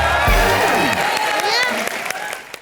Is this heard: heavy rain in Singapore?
no